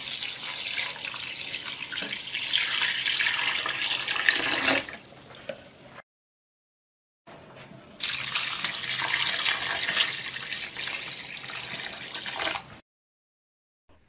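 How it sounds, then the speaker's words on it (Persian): Tap water runs into a bowl as grated potatoes are rinsed in a kitchen sink, a steady splashing gush in two long bursts with a short silent gap between them. "کاسه رو پر از آب میکنم و چندین بار چنگ میزنم که همه نشاسته ها از سیب زمینی جدا بشه و 2-3 بار زیر آب شیر خوب اینها رو میشورم"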